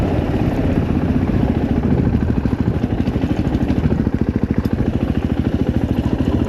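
An Italian motorcycle engine idles steadily close by, with a continuous low, even mechanical throb and faint clatter that holds throughout with no speech.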